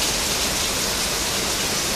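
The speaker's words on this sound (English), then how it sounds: "pretty heavy downpour here on the first day of September" Heavy September downpour on a very rainy monsoon day, a dense, steady hiss of rain filling the whole stretch without a break, loud and close with no voices.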